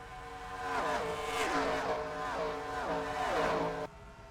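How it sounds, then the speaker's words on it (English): Race cars sweeping past in a racing video game at Michigan, several engine tones rising and falling in successive pitch-shifting passes, fairly faint and without talk. "I think that's the first time I had to stop yapping so I could hear the flyby."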